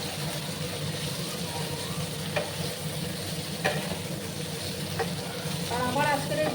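Okra frying in a pan, a steady sizzle with soft stirring scrapes and a few sharper utensil clicks, close and continuous, brightening toward the end.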